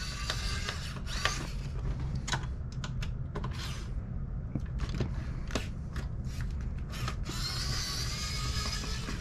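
Standard Phillips screws being worked out of the cooling fan inside a Nintendo Wii U during disassembly, heard as steady small clicking and scraping taps close to the microphone over a constant low hum, with no talking.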